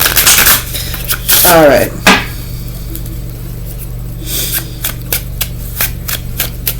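Tarot cards being shuffled: a quick burst of riffling card flicks near the start, then scattered soft card taps and slides, with a brief spoken word.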